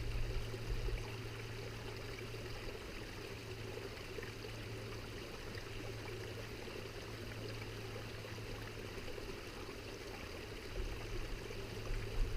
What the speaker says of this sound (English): So I've just stopped to fill up my water bottle from this lovely little stream.